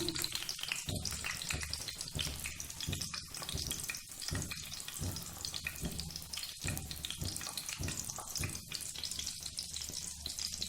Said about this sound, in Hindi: 1 बाय 1 कर मैंने सारी टिक्कियाँ एग में डिप करके तवे के ऊपर डाल दी हैं